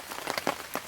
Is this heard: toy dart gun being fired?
no